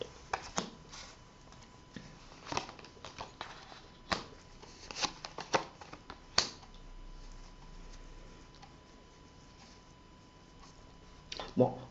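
Tarot cards shuffled during a live psychic reading show, giving a series of soft, close riffling and tapping bursts spread irregularly across the span over a low room hum, with no voices.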